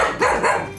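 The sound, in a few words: dog barking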